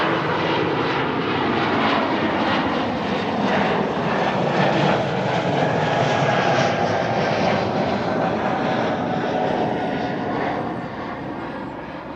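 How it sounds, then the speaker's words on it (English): An Embraer 195-E2 airliner at Amsterdam Schiphol Airport gives a steady, loud jet engine roar that holds for most of the stretch, then eases slightly toward the end, with broadband rumble throughout and no talking. "E2 Embraer 195."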